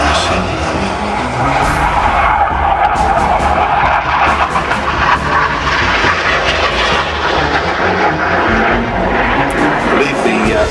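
Hawker Hunter jet flying past at an air show, a loud, sustained broadband engine roar that stays strong and steady throughout, with voices talking over it.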